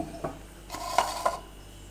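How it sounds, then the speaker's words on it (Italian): Plastic kitchenware being handled while making fermented ketchup: a plastic container and a plastic strainer give a few light, scattered knocks and clatters, close by and otherwise quiet. "prendiamo un contenitore di plastica, un colino di plastica possibilmente"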